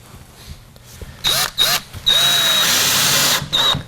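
A power drill drives a screw into a wooden Adirondack chair swing in several short, loud, close bursts of whirring, each starting and stopping abruptly between brief pauses.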